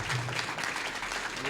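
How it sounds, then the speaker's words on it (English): An audience applauds the Ward 6 candidates at a Springfield candidate debate, giving a steady, moderately faint wash of clapping for the whole moment. "Let's have a well-deserved round of applause for our candidates in Ward 6."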